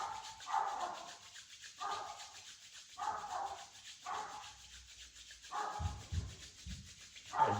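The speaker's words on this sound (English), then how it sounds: "Rub your hands as you breathe in." Hands rubbed briskly together during a yoga breathing exercise, close and soft, in about six short swishing bursts separated by brief pauses.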